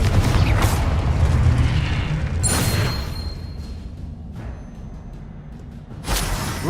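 A Confringo fire spell in Hogwarts Legacy bursts with a heavy rumbling blast that slowly fades, then sharp crackling magical impacts and a final thump ring out, loud and close with no talking.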